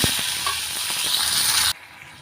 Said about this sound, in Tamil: இப்போ வந்து ஒரு நாலு தக்காளி சேர்த்துக்கிறேன்